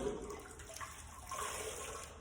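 Microfiber mop pad dipped into a bucket of mop water solution, giving a soft steady sloshing and trickling sound, close and quiet with no talk.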